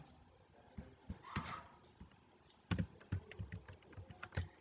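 A code typed on a computer keyboard, faint irregular key clicks in short bursts with a few louder taps, no voices.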